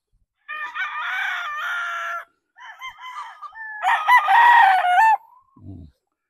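Boston Roundhead cross gamefowl roosters crow loudly and close in a hillside cording area, two long drawn-out crows with a broken call between them, ending in a brief low cluck.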